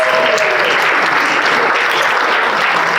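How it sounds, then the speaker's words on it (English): Loud, dense applause from a crowd at a Rotary club leadership and recognition meeting, even and sustained throughout, close to the listener. "A big round of applause."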